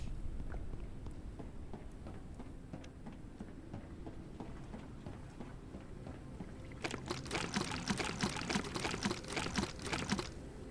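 Water being gathered to fill a container in the video game Forever Skies, with a low rumbling game ambience that turns into a louder crackling, rushing fill sound in the last few seconds, with no voices over it.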